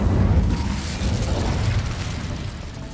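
Bombarda spell explosion in the Hogwarts Legacy video game, a deep rumbling blast with crackling debris that swells, dips briefly and rolls on for a few seconds, heavy and close.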